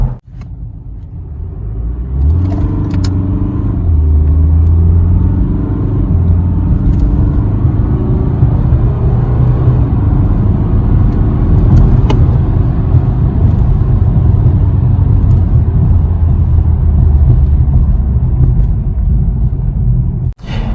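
A 2016 BMW 420d Gran Coupe accelerates hard in sport mode, a loud, continuous engine rumble and road roar climbing in pitch through the gears and holding strong before cutting off abruptly at the end.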